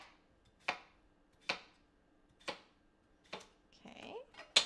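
Knife roughly chopping vegetables for a kimchi gazpacho, five or six crisp, separate chops spaced about a second apart on a board, close and clear in a quiet kitchen.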